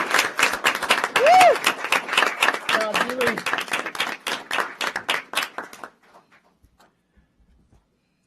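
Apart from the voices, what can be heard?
council meeting audience applause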